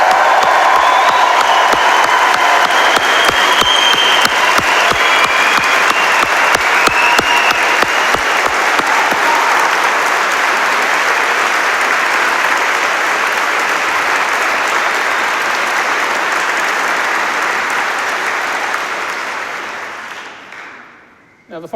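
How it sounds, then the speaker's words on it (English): Loud, sustained applause from a university graduation audience in Paisley honouring graduates, with occasional whoops and crowd noise, holding strong for most of the stretch before fading out near the end. "If you can't do that, then just enjoy yourself in the clapping."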